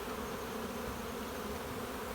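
Honey bees swarm around a hive during a honey flow, their steady, dense buzzing filling the air close by without pause and with no voices.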